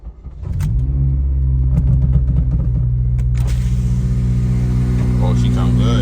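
A Honda Civic Si, fitted with an Exedy Stage 1 clutch kit, starts up and settles into a steady, close, loud idle with a deep rumble and a brief rev at startup. Someone talks over the engine.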